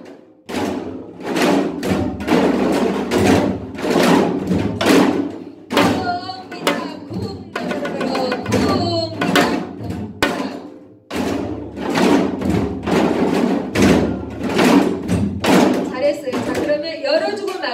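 A Korean janggu hourglass drum plays the gutgeori rhythm in a folk song lesson, with steady, loud, close strokes and rolling patterns running throughout and brief quieter gaps between phrases.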